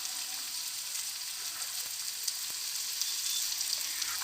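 Chicken pieces fry with garam masala, cumin and coriander powder in a pan, giving a steady, close, hissing sizzle with occasional faint pops and no talking.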